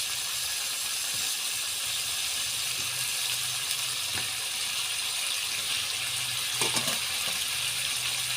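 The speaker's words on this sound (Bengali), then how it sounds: "বন্ধুরা, আমি মাংসের পুর ভরা পটলগুলো কষানোর ভিতরে দিয়ে দিব।" Meat-stuffed pointed gourds (potol) fry in a pan with cardamom and bay leaf, giving a steady, dense hiss and crackle throughout with faint clinks of utensils.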